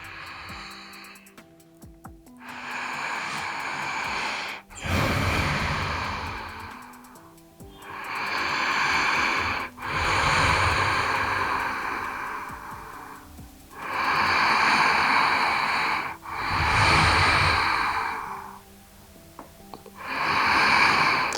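Slow, deep breaths, each long inhale and exhale separated by brief pauses, close and fairly loud, repeating steadily with no talking.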